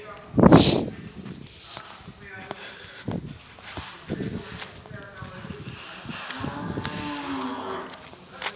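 Cattle, including old cows and calves, moo repeatedly at a cowshed, one loud close low near the start followed by several quieter calls, with rustling and movement around them.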